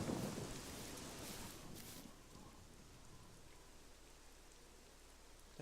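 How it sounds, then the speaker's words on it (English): A storm in the survival game SCUM: a heavy roll of thunder booms at the start, then steady pouring rain hisses on alone. "Big peal of lightning. Thunder. Roll of thunder. Pouring rain."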